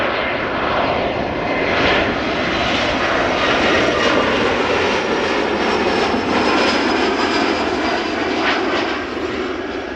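An Embraer 175 jet airliner arrives at Amsterdam Schiphol Airport, a loud continuous broadband engine roar holding steady throughout, with no talking.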